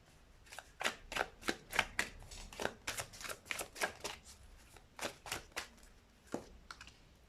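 A tarot deck is shuffled and cards are drawn, making soft, close riffling and flicking sounds in a fairly steady series of quick, papery strokes at low volume.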